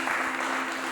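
A brief, steady wash of applause from an audience at a corporate communication event, dense and uniform for under a second.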